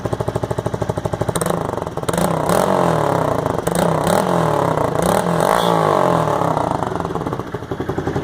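Honda Grom motorcycle fitted with a titanium exhaust and baffle, revved hard for several seconds, loud and close, with a rising, sustained engine roar and no talking.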